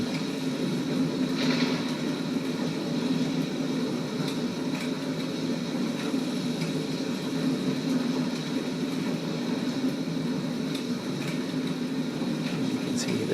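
A fighter plane's engine drones steadily in the Combat Patrol: Sicily flight game, a continuous mid-low hum with a faint scattered hiss above it and no speech.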